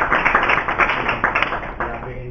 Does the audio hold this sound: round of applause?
yes